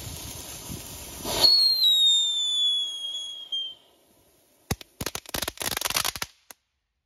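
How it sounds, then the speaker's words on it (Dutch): Disco fountain fireworks go off outdoors with a rising whistle, then several seconds of sharp, dense crackling in bursts. The sound is close and loud. "Ha, disco-fonteintjes. Deze zijn leuk, man."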